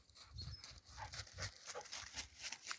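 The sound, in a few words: dogs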